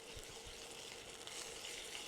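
Steady low sizzle of peppercorn sauce with black and green peppercorns in a pan, a faint continuous frying hiss with a few soft stirring knocks early on, fairly quiet throughout.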